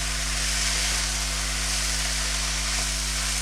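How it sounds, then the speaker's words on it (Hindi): Food sizzles and fries steadily in a pan, seasoned with black pepper and white pepper for a desi-style chicken spaghetti; a continuous, fairly loud crackling hiss with no talk. "लेकिन ये कि ज़रा मैं 1 मिनट में इसे मज़ीद और फ्राई करना चाहती हूँ"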